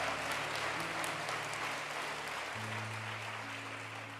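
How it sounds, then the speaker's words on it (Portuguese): A church congregation claps during a worship service, a soft, even wash of applause sustained throughout, with low sustained keyboard or organ tones underneath. "Se você vai aplaudir ao Senhor, faça isso com júbilo, faça isso com força."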